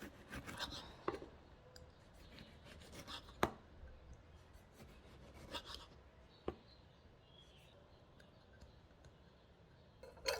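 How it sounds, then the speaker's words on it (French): Knife cutting tomatoes into slices in a home kitchen while preparing brunch dishes, heard as quiet, irregular taps and soft scraping strokes on a board, with a few sharper clicks standing out close by. "Maintenant, je vais couper les tomates en tranches"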